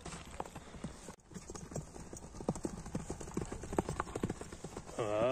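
A young horse's hooves clip-clop in quick, rhythmic beats on firm ground, close and fairly loud, with brief voices in between.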